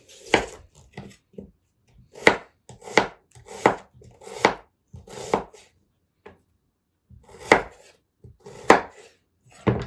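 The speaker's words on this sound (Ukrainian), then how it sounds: "Цибулю нарізаємо напівкільцями." An onion is sliced into half-rings on a board, a series of sharp, close knife chops in quick bursts with short pauses between them, no talking.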